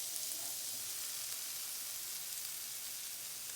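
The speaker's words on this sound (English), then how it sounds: "Yes, the sizzle." Haluski sautéing in a pan with seasonings stirred in, giving a steady, close sizzle that holds evenly throughout with no talking.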